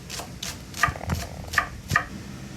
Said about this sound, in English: Now I'm going to chop up these green onions real quick.